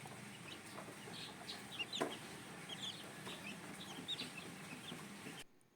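Newly hatched chicks of a Golden Boy Gilmore brood hen peep in high, scattered chirps in a warm coop, with low clucking and a brief knock near the middle, then the sound cuts off at the end.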